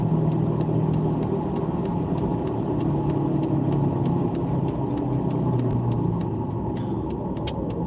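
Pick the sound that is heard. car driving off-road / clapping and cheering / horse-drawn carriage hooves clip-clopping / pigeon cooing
car driving off-road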